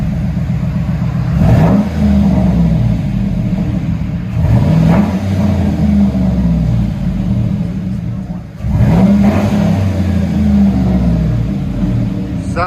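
Chevy Avalanche with a 5.3L V8 and Flowmaster Super 10 exhaust revving hard in repeated bursts, a loud, rumbling roar that rises and falls three times, close by with no speech over it.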